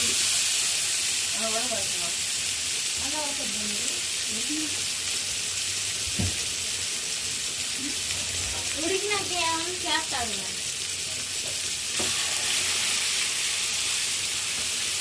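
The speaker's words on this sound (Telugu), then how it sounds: "ఒకేసారి ఒక రెండు ముక్కలు పెట్టేసుకొని బాగా ఫ్రై చేసుకుంటే ఎక్సలెంట్ ఉంటుంది" A couple of pieces frying in hot oil, making a constant hissing sizzle while a person talks intermittently over it.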